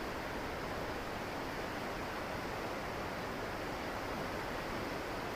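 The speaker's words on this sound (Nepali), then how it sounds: "खोलाको आवाज" A stream flows beside a hot-spring foot bath with a steady, even rush of water. The sound is soft and continuous and stays constant throughout, with no voices.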